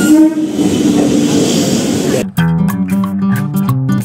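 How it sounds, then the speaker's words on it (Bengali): A train pulls into Sealdah station with a loud, steady rumble of wheels and carriages, then shifts to clattering, tonal horn-like blasts as it comes in close. "তো আমাদের ট্রেন ঢুকে গেছে।"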